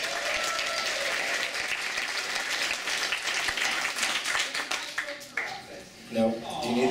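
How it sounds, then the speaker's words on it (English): Audience applause at a costume design workshop during a 2012 gaming player summit: sustained dense clapping from a crowd that fades out near the end, followed by a brief voice. "give a round of applause for Sam Mareko."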